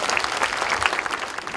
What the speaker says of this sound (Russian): отдельные аплодисменты